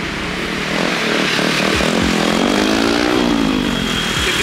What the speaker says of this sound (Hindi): इतनी तेज़ आवाज़ वाली बाइक है।